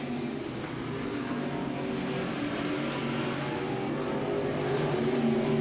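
Vintage race cars run laps at Humberston Speedway, their engines making a continuous loud, droning roar that builds slightly toward the end, with no clear voices on top.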